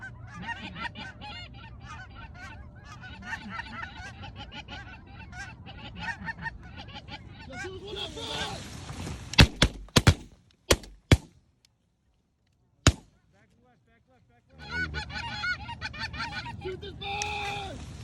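Geese honk in a dense, overlapping chorus during a West Texas goose hunt, followed by several sharp, loud shotgun blasts and a pause before the honking flock returns, with hunters talking throughout.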